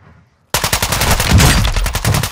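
Rapid automatic gunfire in Call of Duty DMZ, loud and close, with a dense stream of shots that starts abruptly after a brief quiet moment and continues without pause.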